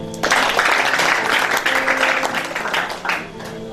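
Church congregation bursting into loud applause to acclaim Jesus, a sudden dense wave of clapping that holds steady and then fades near the end.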